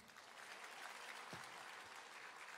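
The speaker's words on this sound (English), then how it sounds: "Can we have another round of applause for him?" An audience applauds on stage at IIT Bombay Techfest 2024, giving a steady, even round of clapping from a crowd at moderate distance.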